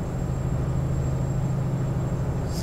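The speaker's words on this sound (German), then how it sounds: "Der hat so ein komisches Pfeifen hier, so ein Klingeln, ne? Der Motor, hört ihr das?" Truck engine in Euro Truck Simulator 2 drones at a steady low hum, with a thin, constant high whistle or ringing tone sustained above it and no talk.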